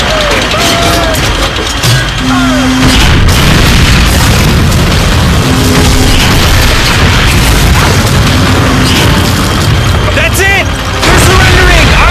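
A big gun fires in heavy booms during a World War II battle in the video game Call of Duty Finest Hour, loud and dense, mixed with music and voices talking.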